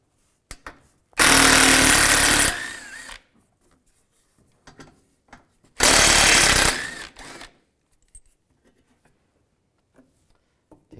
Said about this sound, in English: Underneath, we want to take these 2 bolts out. Use a 10mm socket.